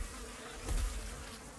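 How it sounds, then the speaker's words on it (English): Bees buzz during an attack in Dauntless, a brief dense swarm hum that swells for a moment against the noise of combat. "Going to use the bees here."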